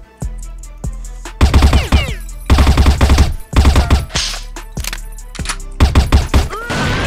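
Sustained automatic gunfire from a shooter video game match against a cheater: a few isolated shots, then long loud bursts of rapid fire with short gaps, close and dense, no speech over it.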